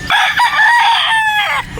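A single loud gamefowl rooster crow rings out close by at a game farm in Batangas, a drawn-out strained call lasting about a second and a half.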